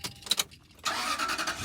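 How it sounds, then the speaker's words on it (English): A car engine, fitted with a plugged-in eFlexFuel flex-fuel unit, cranks briefly with a few uneven bursts, pauses, then catches and settles into a steady, fairly loud running roar nearby. "We're gonna go ahead and start the vehicle."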